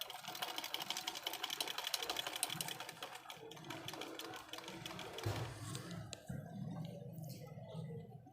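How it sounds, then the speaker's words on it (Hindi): A sewing machine with its shuttle set for jersey fabric stitches in a fast, continuous, fairly quiet whirring chatter that eases off and breaks up near the end. "मैं लगाने लगा हूँ टांका।"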